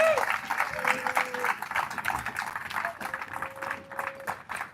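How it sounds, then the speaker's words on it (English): A crowd applauds at the official ribbon-cutting opening of the United States National Handball Center, sustained clapping with scattered cheers and whistles throughout, fairly close and filling the space. "Can we get a round of applause, please?"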